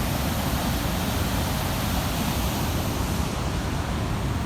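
Water rushing steadily through a canal at a lift pump scheme where people are fishing, a dense, continuous broadband roar that stays loud and even throughout with no talk.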